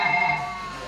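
A mobile phone rings in a short burst, a bright electronic tone sounding steadily and close before it fades out, with no one speaking over it.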